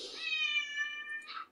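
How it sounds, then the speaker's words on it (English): A domestic cat gives one long, clear, drawn-out meow nearby, rising and ending with a short, brighter tail. "that's my cat meow for some reason."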